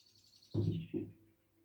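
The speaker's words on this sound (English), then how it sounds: "Did you hear that bird?" A bird's faint, thin call slides downward high above, heard behind two dull, low thumps close by.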